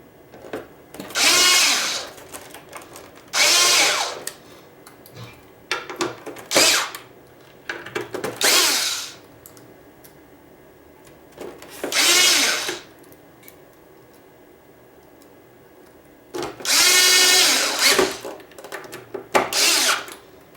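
A power drill drives screws into a double-board hoverboard during repair, whirring in a series of separate bursts of a second or two each, with short pauses and quiet handling noises between them.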